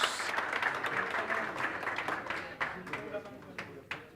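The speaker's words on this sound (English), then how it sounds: "Let's give the young man a big round of applause." A round of applause for a young school football captain at an African schools championship event in South Africa, loose and moderately loud clapping with scattered sharp claps as it thins out toward the end.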